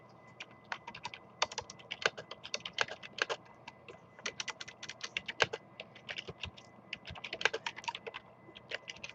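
Rapid, irregular keystrokes on a computer keyboard, clattering in quick bursts with short pauses, close and fairly quiet, no voices.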